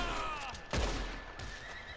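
A horse in the Western video game Red Dead Online lets out a single sharp neigh and whinny, close and loud, amid game ambience.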